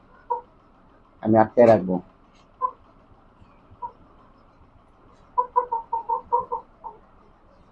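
Hen clucking in a backyard coop, a burst of loud squawking clucks followed by a run of short rhythmic clucks nearby, with someone speaking briefly in between.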